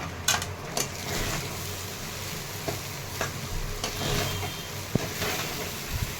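Manchurian fried rice with plenty of chopped coriander is stirred and tossed in a hot pan, giving a steady sizzle with scattered scraping clicks of the spoon against the pan. There is no speech.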